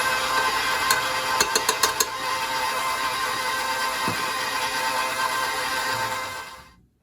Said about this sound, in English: we're going to put our cream cheese into the mixer fitted with a paddle attachment, and we're going to put that on medium speed.